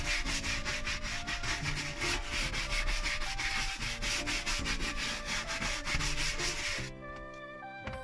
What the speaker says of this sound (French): la brosse à poils souples permet déjà de donner un bon coup.